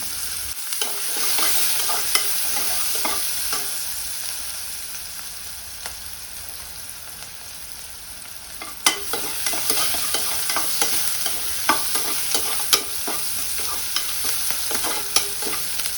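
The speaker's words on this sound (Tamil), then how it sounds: "பார்த்தீங்களா, ஆனியன்ஸ் நல்லா ப்ரௌன் ஆகிட்டு இருக்கு" Sliced onions frying and caramelizing in oil in a pan for dum biryani, with a steady sizzle throughout and frequent clicks and scrapes of stirring, louder in the second half.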